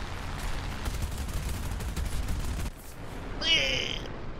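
Rapid gunfire and booming shots from a tank battle video game featuring the 5.7 Tiger, a dense burst of firing for the first few seconds before a sudden drop, then a brief high ringing tone.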